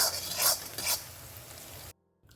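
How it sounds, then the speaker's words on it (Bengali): Egg is stirred and fried in a pan for street-style mixed chowmein: two scraping stirring strokes over a steady sizzle, then the sound cuts to near silence with a faint return at the end. "একটু ভালো করে নাড়াচাড়া করে লালচে হওয়া পর্যন্ত একটু ফ্রাই করে নেবে"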